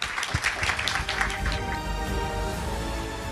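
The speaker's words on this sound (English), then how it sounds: "Let's give them a big round of applause." Audience at an ASEAN conference on plastic pollution applauding the speakers at the close of a session, a burst of claps at first that settles into steady, moderately loud applause.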